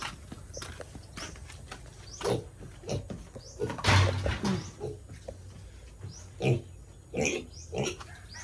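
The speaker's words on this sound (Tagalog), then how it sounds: "Bahog muna po tayo ng baboy." A pig grunting and snorting repeatedly at close range while being given feed slop, with irregular bursts of grunts and occasional scraping and knocking noises.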